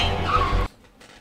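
A video game car skids with screeching tires and an engine roar, loud and close, then cuts off abruptly into near silence with a faint rustle.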